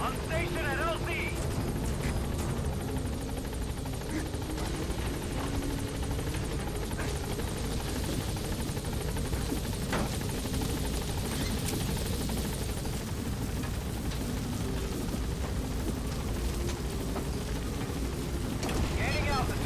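B-Quad helicopter in Metal Gear Solid V arriving at a landing zone, a steady loud rotor drone and engine rumble throughout, with game radio voices talking over it.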